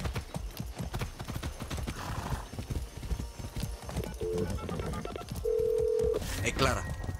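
Horse hooves clip-clop at a steady walking rhythm in Far Cry 6, close and clear, with a voice talking over them and brief electronic beeps and tones near the end.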